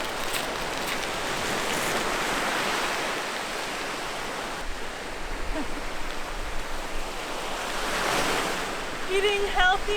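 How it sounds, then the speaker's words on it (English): Ocean waves wash onto a sandy beach in steady, broad rushing surges with some wind noise, swelling louder around the middle and near the end, with no talking. "the sound of the waves."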